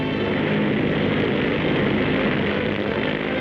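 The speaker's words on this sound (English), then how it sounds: "B-19 takes off." The Douglas B-19, a giant piston-engine bomber, takes off at Santa Monica, California. Its propellers give a steady, loud, droning roar that holds unchanged throughout, with no voices heard.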